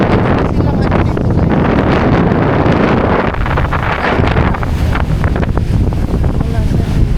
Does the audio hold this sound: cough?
no